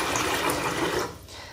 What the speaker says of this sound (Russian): Поэтому вот так вот мы заливаем воду.